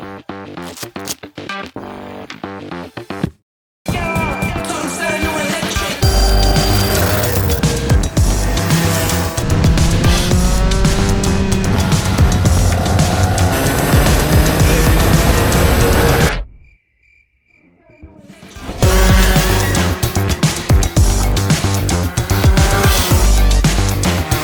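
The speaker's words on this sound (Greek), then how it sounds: "Πάμε να βάλουμε μπρος το go-kart." A go-kart engine starts and runs loud and close, a steady droning roar that shifts pitch as it drives. It cuts out briefly near the end, then picks up again.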